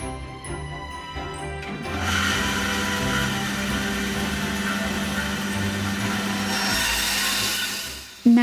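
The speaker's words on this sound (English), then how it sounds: "Now, the bandsaw is a very scary piece of machinery" A bandsaw cuts through a round cast resin piece in a workshop. A loud, steady grinding whine runs continuously for about six seconds after the motor spins up, then the cut ends with a clunk.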